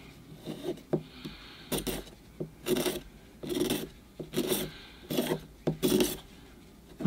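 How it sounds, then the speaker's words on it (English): A hand scraper shaves thin layers of bark from a larch bonsai forest, making short, close, dry rasping strokes that repeat in an irregular rhythm of about eight scrapes, with soft handling sounds between them. "You just get the right angle on your blade and it should scrape a tiny layer off."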